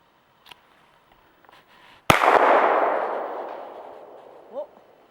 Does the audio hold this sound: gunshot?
yes